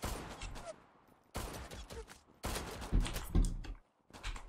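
Bursts of Desert Eagle gunfire from the online shooter Zula come in clustered rapid shots separated by short silences, with heavier thuds toward the end and no talk.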